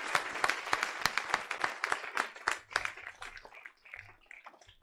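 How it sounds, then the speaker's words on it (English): An audience gives a round of applause for four world record holders, a dense burst of close clapping that starts strong and gradually thins out over a few seconds, with no voices over it. "I think we should have a nice round of applause for the 4 world record holders"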